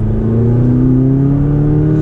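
A turbocharged McLaren 570GT accelerates hard on a cold day, its engine note climbing steadily and loudly from close inside the car, with no talking.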